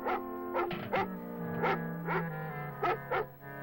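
A cartoon dog barks in a run of short, sharp woofs and yips, spaced unevenly over several seconds against a sustained musical background.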